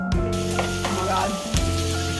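Kimchi jjigae with pork belly cooking down in a pot gives a close, loud sizzle and bubbling, with brief clinks and stirring bursts.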